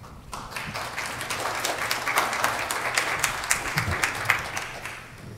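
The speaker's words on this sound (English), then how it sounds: "Please give a big round of applause in welcoming to the stage Mr. Ethan Levy." An audience at a conference talk applauds to welcome a speaker to the stage. The dense, steady clapping holds a moderate level throughout with no voices over it.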